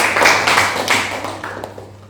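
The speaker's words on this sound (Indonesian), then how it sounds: "Tepuk tangan untuk peserta." Audience applause for a participant at a classroom dance performance assessment, a short burst of scattered clapping and tapping that fades over a couple of seconds, with a low steady hum underneath.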